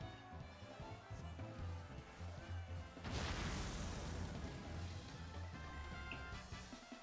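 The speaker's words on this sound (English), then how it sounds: "Big explosion." A big explosion goes off in Final Fantasy XIV during the Moonfire Faire event, a sudden loud broadband burst cutting over steady game music and then rumbling on for several seconds.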